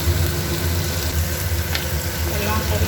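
Tomato and green chillies sizzle in oil with lightly fried onions for a fish do-peyaja, a steady, close, continuous frying hiss with faint clatter and a low hum underneath.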